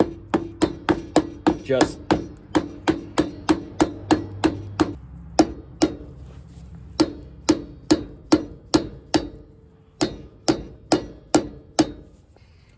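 A dust cap is tapped onto an equipment trailer hub with a block in a long run of sharp, evenly spaced knocks. It begins quickly, then slows, ending in softer taps with a quiet room behind.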